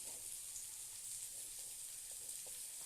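Potato and cauliflower pieces frying in a pan with chili sauce and tomato sauce, a soft continuous sizzle and hiss with faint occasional stirring ticks, no talk.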